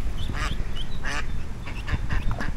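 A mother duck gives a short burst of loud, close, raspy quacks, several calls in quick succession against a noisy outdoor background.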